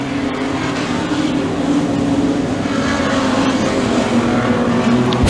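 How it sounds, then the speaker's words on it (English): Street stock race cars run together on the track in a feature race, their engines a loud, continuous droning roar that swells slightly as the pack sweeps past. "18 cars still running in the street stock stampede as we're underway"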